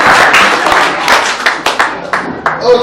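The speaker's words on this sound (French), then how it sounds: "on peut encore applaudir à notre sœur Ange" A group claps hands during a music training session, brisk overlapping claps forming a steady close ovation that thins toward the end.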